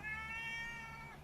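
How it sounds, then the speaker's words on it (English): A single loud, drawn-out meow from a male house cat, close and clear, lasting about a second with nothing else around it. "He's got a loud meow today."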